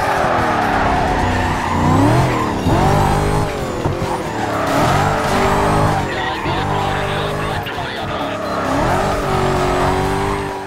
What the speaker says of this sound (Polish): Taką prędkość pozwala mi teraz osiągnąć Corvette.